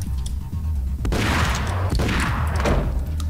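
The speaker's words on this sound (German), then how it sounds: "Wer schmeißt mir Granaten?" Grenade explosions in the Max Payne video game: two loud, booming blasts about a second apart, each followed by a crashing, rumbling tail over a low, steady game background.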